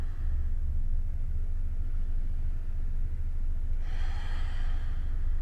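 Deep, slow breaths during a yoga session come as steady, airy inhales and exhales close to the microphone, with a sharper breath toward the end.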